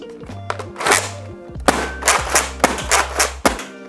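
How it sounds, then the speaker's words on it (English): A Nerf Ultra 3 foam dart blaster fires in quick succession, a series of sharp close thunks and mechanical clacks about every half second, loud and with no talk. "And I can fire it really fast, which I like."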